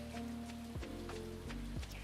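Steady rain falls in summer over a river in a farming video game, a soft continuous patter heard under sustained music tones that shift pitch a few times.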